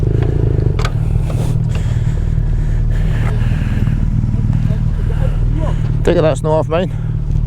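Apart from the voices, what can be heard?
vehicle engine running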